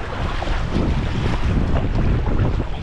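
A motor running during river rafting in Canada, with loud, steady broadband rumble and rushing water and wind noise throughout, close and continuous.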